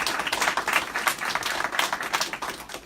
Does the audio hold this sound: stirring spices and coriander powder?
no